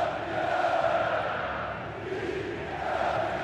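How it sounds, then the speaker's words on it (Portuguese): A stadium crowd of Internacional supporters at a 2010 Copa Libertadores final chants steadily in a dense, rolling roar. The mass of voices swells and dips slightly but keeps going without a break. "E a torcida começa a gritar que é bicampeão"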